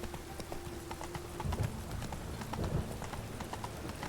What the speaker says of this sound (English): you can't actually, like, race your horse through here